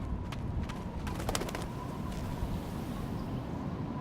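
Birds coo and call in the game Life Is Strange, pigeon- or dove-like, layered over a steady outdoor ambience with a few brighter chirps clustered near the start.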